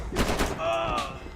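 Video game gunfire, a few quick close shots with sharp bursts followed by ringing tonal tails, brief and fairly loud over other game sounds.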